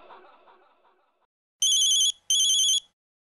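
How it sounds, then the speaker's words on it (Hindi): A telephone rings twice in loud electronic bursts, following a few seconds of quiet murmuring. "देखा बिना तार के भी ये फोन कैसे बजने लगा"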